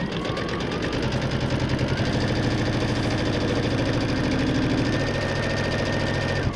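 Domestic sewing machine stitching through layered quilt fabric, a steady fast mechanical whir with rapid needle clatter running continuously at close range, with no talk over it.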